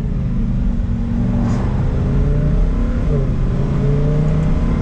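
A Lamborghini Huracan STO's V10 drones loudly from inside the car on Italian backroads, its pitch sliding and shifting as the gears change.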